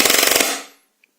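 A Tokyo Marui PS90 High Cycle airsoft replica fires a rapid full-auto burst of about ten evenly spaced shots, loud and close, cutting off abruptly with a brief reverberant tail.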